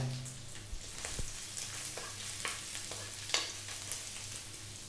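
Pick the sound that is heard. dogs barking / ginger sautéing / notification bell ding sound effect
ginger sautéing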